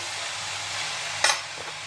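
Garlic sautés in a pan with a soft steady sizzle, then a brief sharp scrape of stirring near the end, close and without speech.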